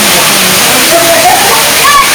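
Water crashes continuously from the 50-foot Rampa Waterfall near Maredumilli, a dense, loud, close rushing hiss, with faint voices and a few thin tonal calls barely rising above it.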